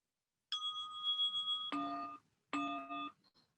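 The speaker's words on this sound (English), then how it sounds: "Sorry, it wasn't the bell yet." A bell rings clearly in a quiet room, three distinct tones: a long ringing note, then two shorter bright rings with sustained overtones, close and alone.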